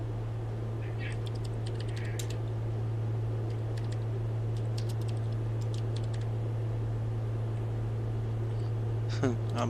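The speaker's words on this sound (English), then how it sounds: "I'm typing too fast here." Rapid typing on a computer keyboard, a dense run of light clicking keystrokes in uneven bursts over a steady low hum, with a couple of sharper taps near the end.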